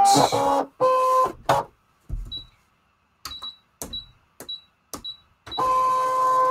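A Brother ScanNCut machine cutting paper gives loud mechanical whirring bursts at the start and end, with a row of short, sharp high beeps and clicks between them in otherwise near silence.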